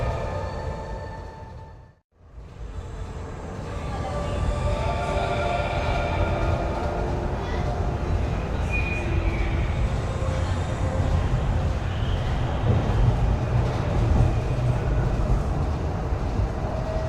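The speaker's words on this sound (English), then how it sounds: "It actually now feels like a real train." Steady rumbling train noise on rails at Ocean Park Hong Kong, loud and continuous with a brief dip early on, then a sustained roar of wheels and carriage hum.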